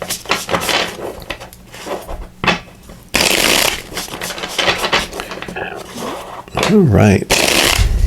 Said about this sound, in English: So let me give these a shuffle